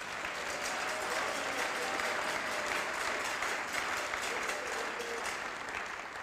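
A church congregation clapping in a sustained, dense round of applause that fills the room evenly throughout, with a few murmured voices mixed in.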